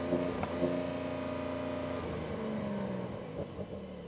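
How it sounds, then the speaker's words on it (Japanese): Engine of a Porsche 911 Carrera GTS revved with the throttle held wide open while stationary, a steady loud drone with layered harmonics that wavers slightly near the end. "アクセル踏んでも3000ぐらいまでしか上がらないな、ほら、これ全開、アクセル全開今。"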